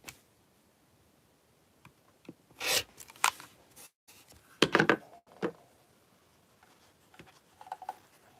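Scissors trimming small fabric pieces for a sewn quilt pattern, a few scattered close snips and crisp cutting bursts separated by quiet pauses.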